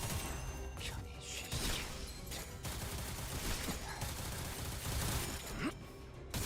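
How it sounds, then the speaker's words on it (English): Dense, continuous bullet-spam gunfire from a video game rattles on without pause, loud and busy, with layered rapid shots and crashing impacts throughout while a voice talks underneath. "Yi Sing's bullet spam sound effects. It's actually really soothing."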